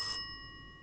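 Single bright metallic ring, like a bell-type phone tone in the Rise of Insanity video game, striking sharply and then decaying quietly over less than a second.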